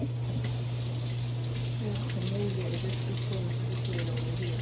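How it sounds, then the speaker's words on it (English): Tap water runs steadily over an onion being rinsed at a kitchen sink, a soft continuous splashing stream over a low electrical hum. "I like to rinse off my onion"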